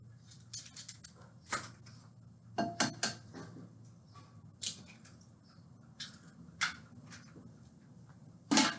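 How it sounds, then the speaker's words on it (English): Two eggs are cracked into a mixing bowl for homemade brownies, heard as a series of faint, sharp clicks and taps on the bowl with soft handling creaks in a quiet kitchen. "grab your eggs, crack them into your mixing bowl"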